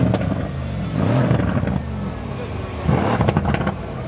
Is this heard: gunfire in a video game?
no